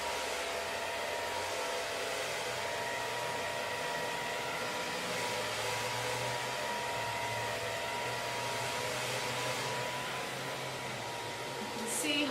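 Smooth-air T-360 hair dryer blowdrying hair: a continuous, close whooshing roar of airflow with a steady motor hum, lasting the whole stretch with only slight shifts in tone.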